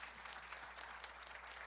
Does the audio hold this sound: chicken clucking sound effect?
no